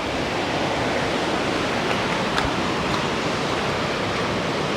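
Water from a forest waterfall rushes down small channels, a close, constant hissing flow that fills the whole stretch evenly, with no voices.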